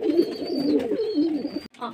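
Pigeons in a home loft cooing softly at feeding time, a short run of low murmuring coos close by.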